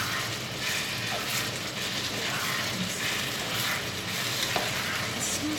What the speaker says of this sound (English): Stir fry them.